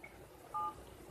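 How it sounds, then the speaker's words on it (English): A mobile phone dials out to a GSM modem used as a remote motor starter, giving one short, clear DTMF keypad tone in an otherwise quiet room. "they are putting a call to this GSM modem"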